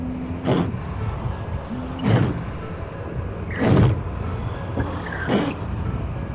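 A worn, hardened car windshield wiper rubber drags across the glass in four evenly spaced, loud squeaky scrapes, one roughly every 1.5 seconds, over a steady background rumble.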